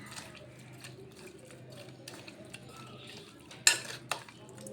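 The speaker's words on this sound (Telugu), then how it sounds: "కొద్దిగా సాల్ట్, ఇది మొత్తం బాగా మిక్స్ చేసుకుందాం." Raw prawns for fried rice being stirred and mixed with salt and garlic paste, giving soft, wet scraping and clinking of a utensil against a bowl, with a sharper clatter near the end.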